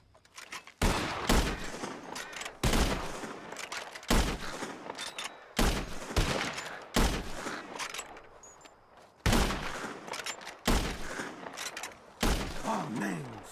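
Gunfire in Red Dead Redemption 2 rings out in a series of sharp, loud shots spaced a second or two apart, each with a booming echoing tail, alone without talk.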